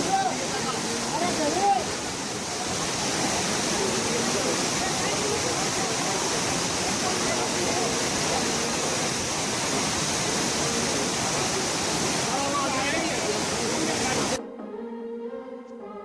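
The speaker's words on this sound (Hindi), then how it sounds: "पानी इतनी तेजी से नीचे गिरता है कि देखकर डर लगता है।" A waterfall in Pelling, Sikkim pours fast onto rocks, a steady loud broadband roar filling the scene for most of the stretch before cutting to something quieter near the end.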